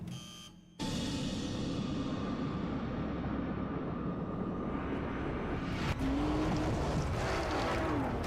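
A 2.3-ton Bentley Continental rally car racing on a Wales Rally GB stage, its engine a continuous loud roar that swells and rises in pitch as it accelerates away after a brief quiet start.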